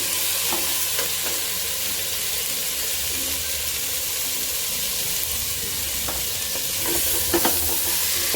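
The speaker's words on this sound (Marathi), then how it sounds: "वाटाणा हे गाजर आणि फ्लावर छान परतवूया" Peas, carrot and cauliflower sauté in a pan for a Maharashtrian bhogi vegetable dish, with a steady close sizzle and occasional stirring scrapes running throughout, no talking.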